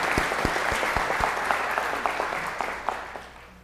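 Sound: audience applause for spelling bee champion

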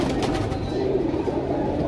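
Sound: black Sharangpuri pigeon cooing

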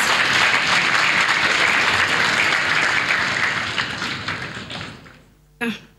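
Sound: congregation clapping

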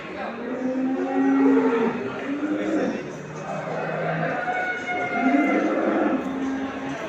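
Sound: dairy cows mooing at a livestock market

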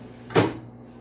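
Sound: antique wooden dresser drawer being handled

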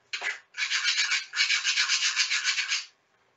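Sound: screwdriver scratching a pergola purlin's Chroma Guard finish

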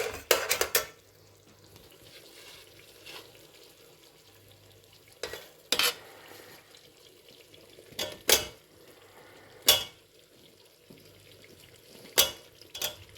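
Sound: stirring cauliflower and potatoes in cooking pan

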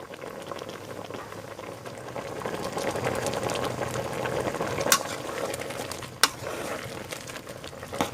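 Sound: frog and gourd curry boiling in pot

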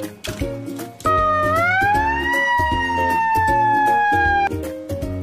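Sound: fire truck siren

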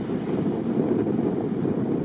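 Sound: wind on a mountainside

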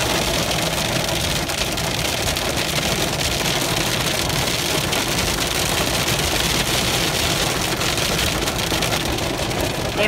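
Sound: rain

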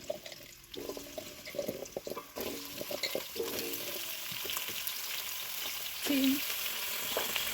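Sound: vegetables frying in oil

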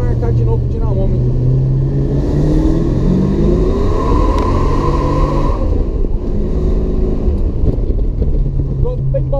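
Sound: supercharged Dodge Dart 318 engine during a tire burnout

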